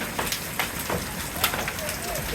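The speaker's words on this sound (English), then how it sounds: "Golf ball sized hail." Golf ball sized hail falling outdoors, a dense rushing patter of impacts with scattered sharper hits standing out, loud and continuous throughout.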